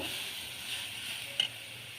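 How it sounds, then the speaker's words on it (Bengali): Garlic paste and chopped onion sautéing in a pan for a country chicken curry give off a steady, quiet sizzle with a brief stirring scrape near the end. "এবার পেঁয়াজ কুচির সাথে রসুন বাটাটা খুব ভালো করে কষিয়ে নেব"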